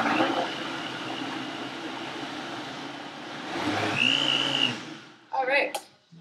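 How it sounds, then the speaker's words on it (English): High-power countertop blender pureeing red pasta pizza sauce, a steady loud motor whir that shifts pitch partway through, then winds down and stops, followed by brief clatter. "This is a pretty high power blender, so it doesn't take that long."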